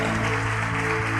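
A church congregation claps together to celebrate a member's birthday, a dense, steady burst of applause filling the room for a brief moment.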